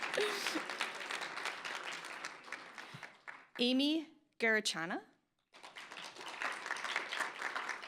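Audience applause at a student life awards ceremony, a steady patter of many hands clapping that breaks off briefly while a voice announces a name, then resumes.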